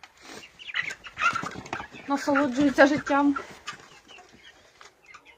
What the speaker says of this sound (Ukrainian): курчатка мої в теплиці